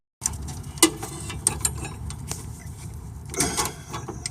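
A 17 mm box wrench and 6 mm Torx work loose a rear stabilizer bar link on an FJ Cruiser, giving soft metallic clicks and ratcheting taps with a sharper clank near the start and a busier rattle toward the end.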